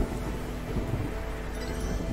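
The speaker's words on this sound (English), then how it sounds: "Oh, it's raining!" Steady rain pours in the Alto's Adventure video game, a constant soft hiss with low rumbling underneath, alone without voices.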